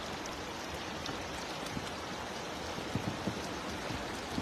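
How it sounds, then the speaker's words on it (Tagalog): A strong river current rushes during cast-net fishing, giving a steady, broad hiss of flowing water with faint splashes and knocks and no voices. "Ang lakas ng agos."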